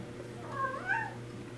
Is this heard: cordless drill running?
no